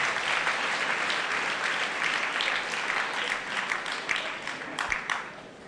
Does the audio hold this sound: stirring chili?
no